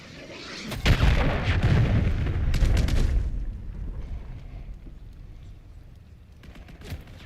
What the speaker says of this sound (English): Hostiles launched the cruise missile